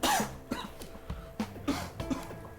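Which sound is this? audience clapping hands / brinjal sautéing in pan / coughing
coughing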